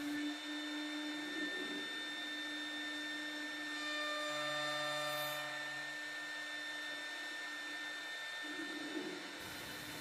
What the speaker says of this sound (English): The first program begins by climb milling the edges of the rails to eliminate tear out.